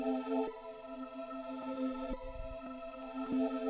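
FL Studio melody pattern run through an Effectrix filter set to 59%, giving a steady, muffled ambient synth line with soft repeating rhythmic hits and a sustained tonal bed, with no voices.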